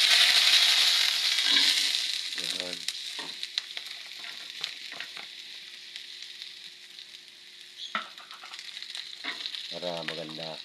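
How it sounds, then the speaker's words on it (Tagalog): Potatoes frying in a pan give a steady, close hiss of sizzling oil that runs throughout, with occasional stirring clicks and a few brief spoken words over it. "Prito lang natin yung patatas."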